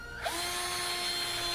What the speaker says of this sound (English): And then I take the drill